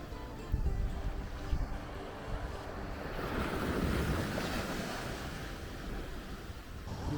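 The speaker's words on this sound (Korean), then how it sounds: "바람이 거의 없어서인지 파도가 심하지 않습니다." Gentle surf washes onto a fine white quartz-sand beach at Tampa, Florida on a nearly windless day, a soft, steady wash with some wind rumble on the microphone and no voices.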